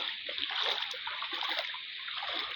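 Knee-deep flood water on a submerged brick road in front of a house, splashing and sloshing close by in uneven bursts, a short wet churning with no talking.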